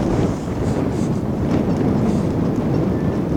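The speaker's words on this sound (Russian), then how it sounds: "Такой ветер, я не знаю, что там будет слышно." Strong wind buffets the microphone in a constant low roar, with no voices, on an open field.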